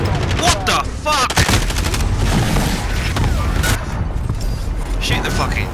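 Video game gunfire, dense rapid bursts and booms throughout, with players talking excitedly over the shooting.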